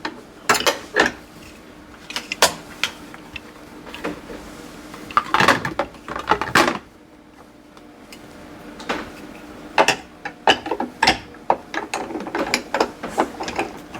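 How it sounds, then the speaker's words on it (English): The handle of a home soft serve ice cream machine pivots down and up, giving repeated plastic clicks and ratcheting mechanical clatter in irregular clusters, close and fairly loud, with short quiet pauses. "pulling down will open the chamber, and that will let the ice cream or slushy mix come down, and then all the way up will keep that sealed"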